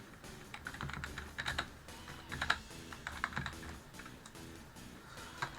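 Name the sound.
computer keyboard typing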